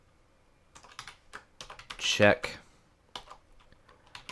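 Keystrokes on a computer keyboard while a game-development tutorial is entered, a few scattered clicks beneath steady talk that rises into a louder burst of voice midway.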